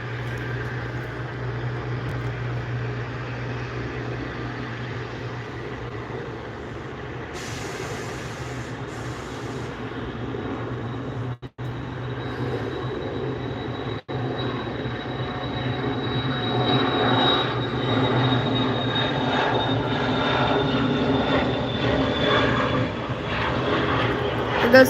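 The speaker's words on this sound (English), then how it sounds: "Enjoy the takeoff from the Dassault Falcon." A Dassault Falcon business jet takes off at SNA airport, a steady, loud jet roar that holds across the whole stretch and swells slightly toward the end, with a rising whine fading in; no talk.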